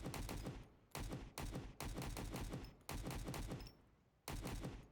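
Automatic gunfire in the video game Road to Vostok: several loud, close bursts of rapid shots separated by short pauses.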